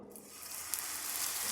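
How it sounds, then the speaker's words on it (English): A soft, steady sizzle of cornbread batter hitting a hot pan, quiet and close, with faint crackling running throughout. "Hear that sizzle?"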